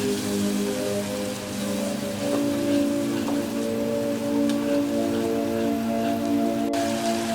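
Spices fry in a pan for a Bengali rui fish-head curry and get stirred, a steady close sizzle and crackle with a low hum underneath that continues evenly throughout.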